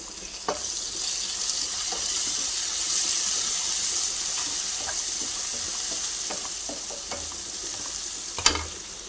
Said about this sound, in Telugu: ఉల్లిపాయ వెల్లిపాయ పచ్చిమిర్చి ఇవన్నీ వేగినాయి కదండి